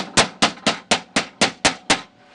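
Hammer blows folding the steel door skin over on a 1967 Mustang door, seven sharp, evenly spaced strikes ringing out close and loud with no talk.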